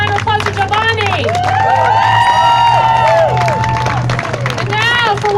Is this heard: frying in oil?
no